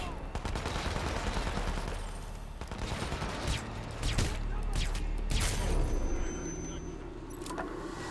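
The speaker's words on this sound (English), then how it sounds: "A gunshot, I used a silencer." Rapid bursts of video game gunfire from Hitman: Absolution crackle in quick succession over a rumbling vehicle engine, with a voice speaking partway through.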